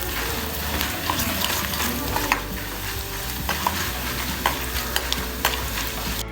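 Mustard seeds and spices tempering in hot oil for Sourashtra-style puliyodharai, a steady close sizzle broken by scattered sharp pops and crackles, with no voices.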